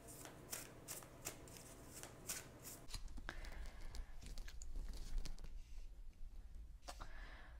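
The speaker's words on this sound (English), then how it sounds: "Give them a few more shuffles." Tarot cards are shuffled close by in quick riffling bursts, followed by a softer stretch of sliding and tapping cards.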